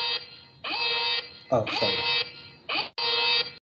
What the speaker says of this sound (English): That is just the alarm at home